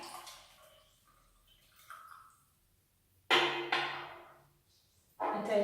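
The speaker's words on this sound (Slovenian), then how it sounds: "Nalijete vodo do tele označbe Max" Water is poured into an aroma diffuser's reservoir up to the Max mark, heard as short, close splashing pours separated by quiet stretches.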